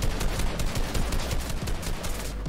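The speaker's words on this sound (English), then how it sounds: "I missed all my shots." Rapid gunfire in the video game Fortnite, loud bursts of shots firing in quick repeated volleys with no pause.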